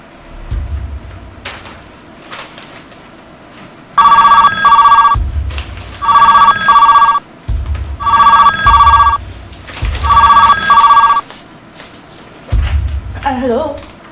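A telephone rings in four loud, shrill bursts with pauses between, alongside faint rustling and a brief voice at the end.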